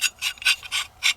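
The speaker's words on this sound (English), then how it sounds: "you can just screw this in where your standard buffer tube would go" CMMG receiver plug being screwed into the buffer tube position of a Bravo 22 conversion setup, giving five evenly spaced dry rasping turns, close and clear with no talk.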